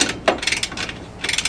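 Nylock nuts being tightened on a wheel assembly with a ratchet, a rapid string of clicking pawl sounds in short bursts, close and fairly loud.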